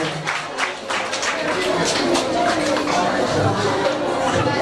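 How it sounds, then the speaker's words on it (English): Audience applause at a primary school awards and induction ceremony, steady dense clapping from a crowd with chatter mixed in, sustained at a fairly loud level throughout. "Could you please give them a round of applause?"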